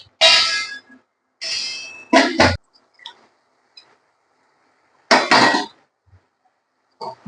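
Metal pot lid clangs onto a pan of paneer butter masala gravy in a quiet kitchen, several sharp ringing clinks and rattles in separate bursts with pauses between, close and fairly loud.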